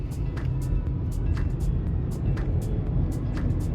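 A car driving in traffic, steady low engine and road rumble from inside the vehicle with faint ticking sounds and passing traffic around it.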